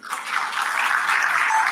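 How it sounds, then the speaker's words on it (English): Applause from the audience at a women's excellence awards ceremony, a steady wash of clapping that swells quickly and holds at an even level for a short stretch, with no talk over it. "A huge round of applause for him"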